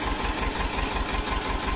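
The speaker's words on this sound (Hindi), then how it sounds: "ट्रैक्टर को स्टार्ट किया जा रहा है" A tractor engine runs in a farm field during sowing after rain, a steady chugging idle with a regular low pulsing rhythm, moderately close and with no talk.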